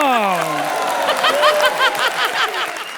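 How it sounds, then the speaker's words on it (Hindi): Studio audience applause on a comedy show, a dense wash of clapping that rises after a sliding musical tone, with some laughter and voices mixed in. "जोरदार तालियां"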